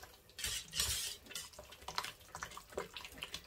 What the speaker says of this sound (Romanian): Voi amesteca până când untul se va încorpora în crema de ciocolată.